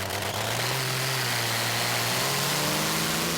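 A pulling tractor's supercharged Allison V12 aircraft engine roars steadily at a tractor pulling event, droning loud and continuous with a slowly shifting pitch, no talking.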